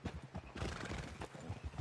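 Horse hooves clip-clopping with a whinny in a PS4 video game, rapid close hoofbeats in a dense, busy burst lasting under two seconds.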